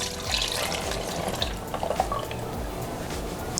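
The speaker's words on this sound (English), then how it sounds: "Now we need to pour this back into our bottle." Homemade ginger ale is poured through a small funnel into a Drinkmate bottle, giving a steady gurgling stream with a few splashy drips, close and continuous.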